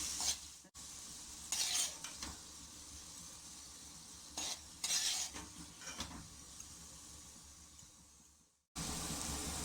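Raisins fry in hot ghee while being stirred for halwa, with a soft continuous sizzle and several brief bursts of spoon scraping against the pan, recorded close and quiet.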